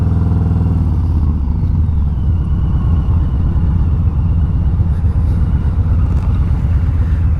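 A 2021 Harley-Davidson Street Bob 114 engine rumbles loudly and close by. It rises as the rider rolls on the throttle in first gear, a deep, steady, throbbing roar that runs through the whole clip.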